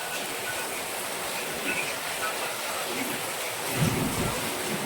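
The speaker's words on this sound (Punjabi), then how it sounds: "ਬਹੁਤ ਭਾਰਾ ਮੀਂਹ ਆ ਜੀ ਬਹੁਤ ਜ਼ਿਆਦਾ ਭਾਰਾ" Heavy rain pours down in Bathinda as a dense, even hiss that never lets up, with one faint low thump near the end.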